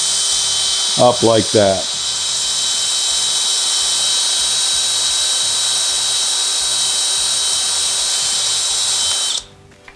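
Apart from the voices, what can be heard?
power drill drilling vent window part of Volkswagen Beetle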